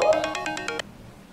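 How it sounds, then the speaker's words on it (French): A telephone rings in a rapid electronic warble, seven quick bursts close and loud, then cutting off into quiet room tone. "Mais mes téléphones m'ont sonné."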